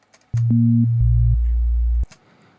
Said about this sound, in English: This operator will be just one sine wave.